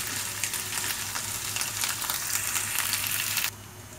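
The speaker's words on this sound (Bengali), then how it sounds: "এই পর্যায়ে আদা রসুন পেস্ট আমি এর সাথে আরেকটু ভেজে নিচ্ছি" Ginger garlic paste sizzles steadily in a hot pan for a fish curry, a dense continuous frying hiss with faint low hum beneath, cutting abruptly quieter near the end.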